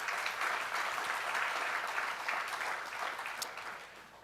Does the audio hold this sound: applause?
yes